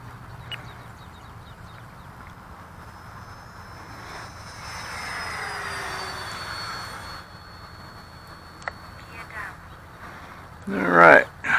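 An FMS 70mm Yak-130 radio-controlled jet on its maiden flight, its ducted-fan whine rising and fading as it passes at a distance, with voices talking and a brief loud burst near the end.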